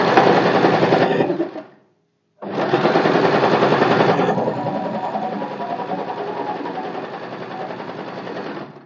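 A sewing machine stitches a tuck into a blouse lining in a steady, rapid whirring run. It stops briefly and then starts again, close and loud.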